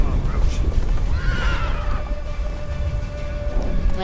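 Roach, the horse in the Witcher 3 video game, whinnies once, loud and near, with hoof clip-clop and game ambience around it.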